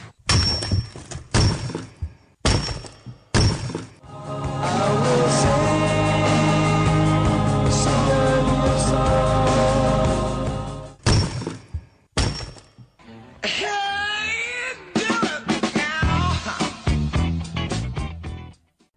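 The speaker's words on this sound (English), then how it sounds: "that's the sound of rock cracking" Sharp cracks and heavy thuds of splitting rock come in scattered bursts, broken up by a long, dense stretch of crashing and grinding, then more irregular snaps and crackles near the end.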